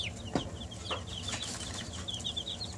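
Barred Rock chickens cluck softly and intermittently at close range, with a few short, higher calls and chirps scattered over a low, quiet background.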